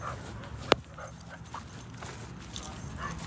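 A dog moves about outdoors with soft whimpers and small sounds, a sharp tap near the start, under light background noise and without clear talk.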